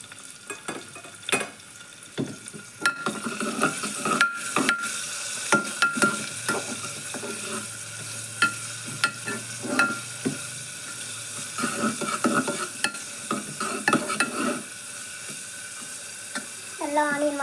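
Chopped garlic and onion hit hot oil in a pan, setting off a steady close sizzle and frying hiss with repeated sharp scraping and stirring clicks throughout, with faint background sounds.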